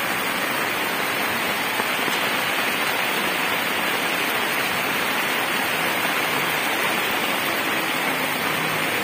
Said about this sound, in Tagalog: Walang tigil ng ulan.